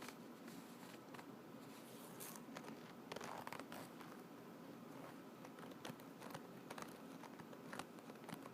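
Soft zipper sounds from a jewelry wristlet bag with a handle and a top zipper, heard up close and quiet as a series of brief scratchy pulls and clicks with no talking.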